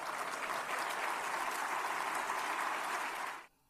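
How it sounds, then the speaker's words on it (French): A church congregation claps in a dense, steady burst of applause that stops abruptly near the end. "Les frères et sœurs ici sont en train d'applaudir, car nous applaudissons notre Dieu."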